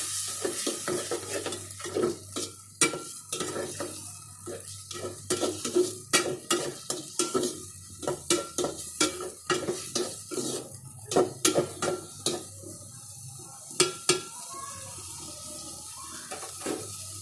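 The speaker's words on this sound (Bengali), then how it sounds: "এখন টমেটোগুলো দিয়ে দেব কষানোর জন্য।" Tomatoes being fried and stirred in a pan: a steady sizzle runs throughout, broken by repeated sharp scrapes and clicks of a utensil against the pan, close and fairly loud, with no talking.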